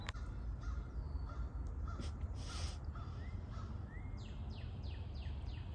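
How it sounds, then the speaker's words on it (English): Crows cawing outdoors in spring near birds of prey, a series of harsh calls in quick succession, including a rapid run of four or five near the end, fairly faint over a steady background rumble. "I could still hear the crows going nuts, like protecting their territory"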